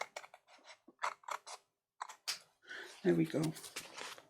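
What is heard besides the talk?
scissors trimming excess paper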